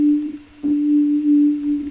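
Ableton reverb set to early reflections only with diffuse switched off, processing a sustained pure tone that hums steadily, briefly dips, then returns with a short burst of reflected smear.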